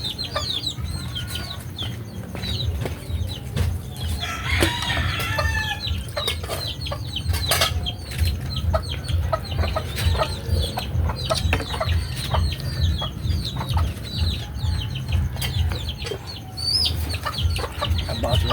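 Chickens clucking with a rooster crowing at times, a busy farmyard chorus of fowl over steady low background rumble, continuous throughout with scattered sharp calls.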